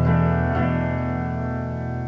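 Electric guitar playing the pre-chorus riff of a song, with the top two strings ringing open through effects; sustained chordal tones sound loud and close, a fresh pick attack about midway, with no talking.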